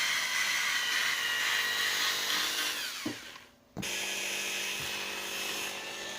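A power drill buffs a Jaguar S-type headlamp lens, a steady high whir with a dense hiss that dips into a brief drop near the middle before resuming at full strength. No one speaks.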